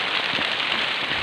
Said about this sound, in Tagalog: Currently, umuulan ngayon. Malakas.